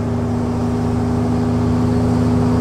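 A 1939 Mercedes 770 open touring car drives along, its large engine giving a loud, steady, low droning hum with no talk.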